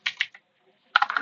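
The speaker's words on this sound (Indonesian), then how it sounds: "lalu kita mengetik seperti ini" Two short bursts of rapid, close clicking on a computer keyboard while a command is typed, separated by a brief silence, with no talk.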